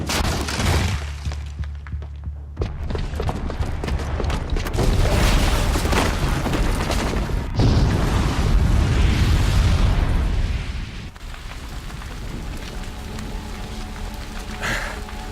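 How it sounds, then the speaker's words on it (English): Booby-trapped bomb going off in Horizon Zero Dawn, a loud sustained explosion with roaring rumble and shattering debris that slowly fades to crackling, dropping off near the end. "Because the booby trap on the bomb downstairs is gonna get set off."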